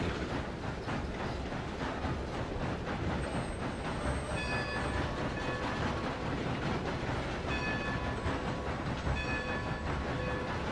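A train in Red Dead Redemption 2 rumbles steadily along the tracks with continuous clatter, and faint metallic squeals ring out at intervals.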